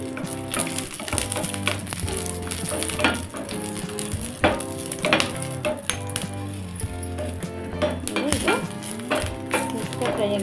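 Green chillies frying in a pan for coconut chutney, a steady sizzle with frequent metallic clinks and scrapes of stirring, close and fairly quiet, with no talk.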